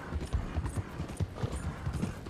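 Hooves of a horse galloping in Red Dead Redemption 2 beat out a quick, even clip-clop rhythm behind a train, close and moderately loud against a low background rumble.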